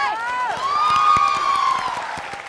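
Audience cheering and clapping at a Tamil stage show, with a loud sustained whistle or whoop riding over the crowd, then scattered claps.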